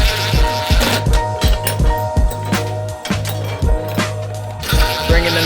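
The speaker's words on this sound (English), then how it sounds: "This isn't turning the actual, the bolt, it's just turning the nut." A ratchet wrench clicks in a quick, steady rhythm as it runs a nut up a bolt while a Nomadic Cooling AC unit is mounted on a van, with a constant low hum underneath.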